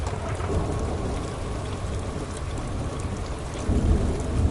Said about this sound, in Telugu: ఇప్పుడు వర్షం ఆగడం ఒక్కటే లాస్ట్ హోప్.